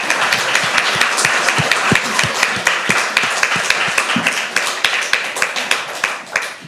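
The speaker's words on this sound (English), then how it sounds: "Round of applause." Applause from an audience at a live-streamed event, with steady, dense clapping from a crowd going on for several seconds at close range.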